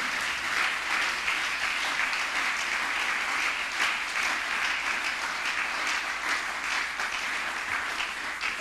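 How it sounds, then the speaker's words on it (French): A congregation at a church service led by Prophète Garry Kenge bursts into loud, sustained applause, a steady wash of clapping that holds evenly throughout. "Est-ce qu'on peut l'acclamer très fort?"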